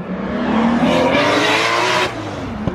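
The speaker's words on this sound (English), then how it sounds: "2JZ Supra. Quick pull." Toyota Supra with a 2JZ engine makes a quick, loud pull at a cars-and-coffee meet, its rising engine note sustained for about two seconds before cutting off abruptly, with a faint tire chirp near the end.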